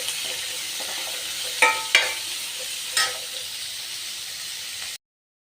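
A constant loud sizzle of vegetables with curry leaves sautéing in a pan, with a few sharp clinks of a utensil stirring, then it cuts off abruptly.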